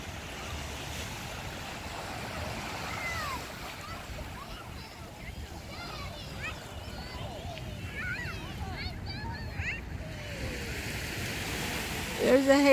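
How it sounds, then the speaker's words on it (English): Big ocean waves surging and crashing at Pokai Bay, a continuous roar of surf mixed with wind noise on the microphone and a few distant voices. "the waves are so big, they crashed over the wall here"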